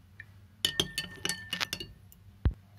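A spoon stirs khus sharbat with powdered sugar and cold water in a half-filled glass, giving a quick cluster of bright, close glass clinks, then a pause and one final sharper clink, with no talking.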